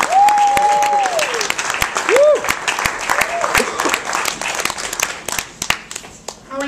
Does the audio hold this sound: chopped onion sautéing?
no